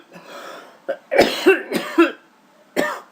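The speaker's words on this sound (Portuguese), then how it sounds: "desculpe pela tossida" A man coughs several times in a quiet room during a lesson, with a soft throat-clearing lead-in, then a cluster of three or four harsh close coughs and one more after a pause.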